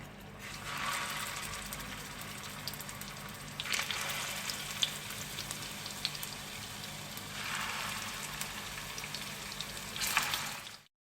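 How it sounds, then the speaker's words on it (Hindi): Kebab rolls shallow-frying in a few spoons of oil make a steady sizzle that swells in several bursts, with scattered crackles and a clack near the end before stopping. "ताकि इसमें जो है हम अच्छे से कबाबों को शैलो फ्राई कर सकें।"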